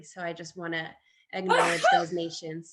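A person's loud sneeze cuts in among speech on an online call, with talking before and after it.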